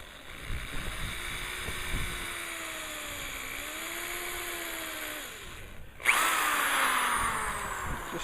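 A power drill bores a hole through a wooden longbow, its motor whining in a rising and falling pitch under load, close and fairly loud, then a sharp louder burst near the end.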